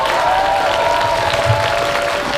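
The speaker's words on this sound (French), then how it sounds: "On peut applaudir encore une fois." Audience at a Japan Cosplay autumn 2019 costume contest clapping continuously, a dense steady patter close by with a faint tone running underneath and no voices.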